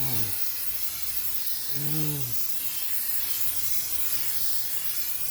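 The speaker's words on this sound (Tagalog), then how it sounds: "Rubberized undercoat. Spray ko yan sa ilalim." Rubberized undercoat sprays under a car for rust protection, a steady broad hiss that runs nearly the whole time at moderate level, with a short voice-like tone near the start and another around the second second.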